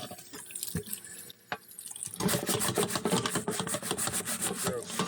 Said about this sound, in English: Let's see what happens when we get the scrubber action going.